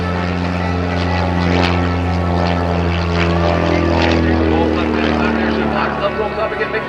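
An aerobatic airplane performs at an airshow with a loud, sustained propeller-engine drone whose pitch shifts slowly as it rolls and dives.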